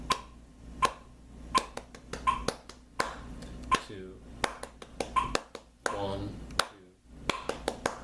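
Sharp hand claps tapping out a guitar strumming rhythm, crisp and close, falling in an uneven syncopated pattern while a voice counts along between them.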